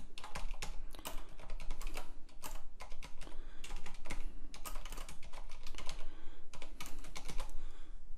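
Rapid, continuous clacking of keys on a computer keyboard, close and fairly loud, with brief pauses between bursts of typing.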